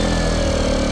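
A Toolpro generator engine runs steadily and loudly up close, a constant droning hum with no talk over it.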